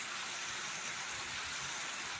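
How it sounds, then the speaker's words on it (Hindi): White water waterfall in a forest pours with a steady, dense rushing hiss, close and unbroken, with no voices. "देखिए ये सुंदर सा झरना है यहाँ पर, बहुत सुंदर एकदम वाइट पानी"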